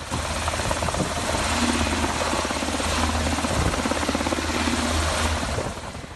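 A helicopter over the Suchiate River in Guatemala: steady rotor thump and engine roar run throughout, loud and constant, then fade slightly at the very end.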